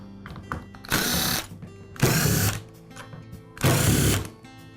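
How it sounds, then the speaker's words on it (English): A cordless Ridgid drill's housing screws are backed out with a powered driver, three loud whirring bursts of about a second each, separated by quieter pauses with small clicks. "then I'll remove the series of screws"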